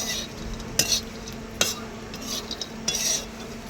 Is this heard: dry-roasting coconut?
yes